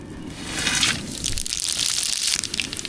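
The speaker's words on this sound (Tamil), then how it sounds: "பட்டை கிராம்புலாம் நல்லா பொறிஞ்சிருச்சு" Cinnamon and cloves fry in a pan for sambar, making a steady crackling sizzle with bright spitting hiss that rises and falls without pause.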